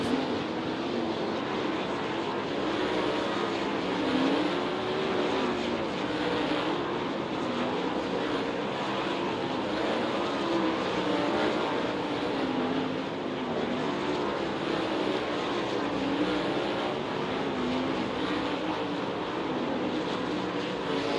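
Race cars circle Lake Ozark Speedway during a hot lap session, a steady, continuous engine roar that holds at an even level throughout with no talk.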